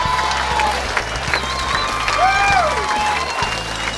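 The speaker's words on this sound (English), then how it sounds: "big round of applause to Mr. Drake" A comedy club crowd claps and cheers steadily, with whistles rising over a busy, dense applause throughout.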